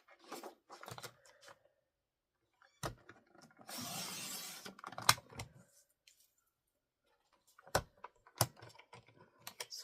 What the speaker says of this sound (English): we're just going to cut that tiny strip off so that it'll be a straight edge